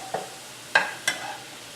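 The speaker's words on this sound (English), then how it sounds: "I kind of stir these up a little bit." Vegan omelette ingredients in a pan, three separate scraping stirs with utensil clatter over a faint low sizzle, close and without speech.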